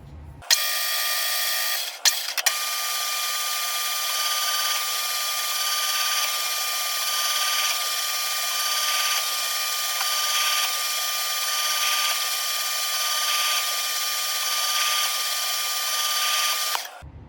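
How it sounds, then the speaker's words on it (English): A metal lathe cuts threads on a Ruger MK IV Target pistol barrel, a loud steady high machine whine running continuously after a brief stop near the start, with no voices. "first we're going to cut a chamfer on the front of the barrel for the threads to start, and then we're going to thread it down to 1/2 28"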